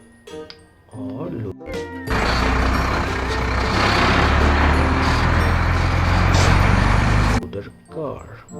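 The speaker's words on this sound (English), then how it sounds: "Next one is loader truck" A heavy loader truck engine roars up loudly for several seconds with clanking and rumble, framed by talking before and after.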